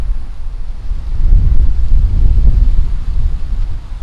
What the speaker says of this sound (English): I feel like the wind's blowing in from all different directions now.